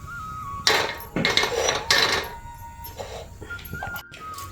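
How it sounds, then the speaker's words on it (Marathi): A flat iron tava is set down on a lit gas stove in an outdoor home kitchen on a windy day, with several loud metallic clanks and scrapes of cookware close by, followed by softer knocks. "आता तवा ठेवते"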